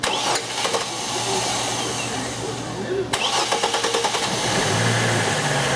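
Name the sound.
GM car engine starting and idling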